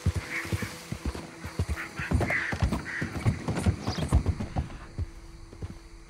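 Horse hooves clip-clopping in Red Dead Redemption 2, a steady rhythmic run of hoofbeats close by across the whole stretch, with a few faint background creaks and bird-like calls.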